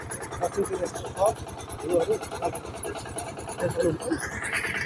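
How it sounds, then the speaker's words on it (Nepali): A power tiller engine chugging steadily while being ridden along a village road with a trailer hitched behind, a rapid low putter heard under continuous talking. "टेलिपावरमा चढेर हामी अगाडि बढ्दैछौँ।"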